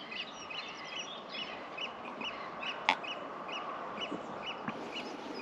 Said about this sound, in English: birds singing, not a breath of wind